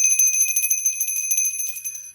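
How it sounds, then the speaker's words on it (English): A small high-pitched bell rings over and over in a fast, steady rhythm, bright and clear with nothing else beneath it, fading slightly toward the end. "I'm ringing the motherfucking bell."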